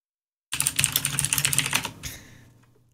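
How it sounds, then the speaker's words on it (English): Rapid burst of computer keyboard typing, clicky keystrokes for about a second and a half, then a quieter trailing rattle. "I'm typing to them"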